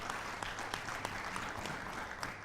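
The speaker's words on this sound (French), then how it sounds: "merci de l'applaudir à nouveau" A fairly quiet audience applauds an a cappella singer, a steady patter of many hands with a few sharper claps standing out, brief and somewhat distant.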